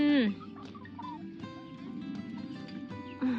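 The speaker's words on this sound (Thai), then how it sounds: "ดูไก่อยากกิน ดูไก่อยากกิน" Hungry farmyard chickens cluck and squawk near the listener in short, uneven bursts, with a louder call at the start and end, as if eager for mint and vegetable scraps being tossed to them.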